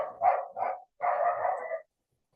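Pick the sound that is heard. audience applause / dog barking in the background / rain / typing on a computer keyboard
dog barking in the background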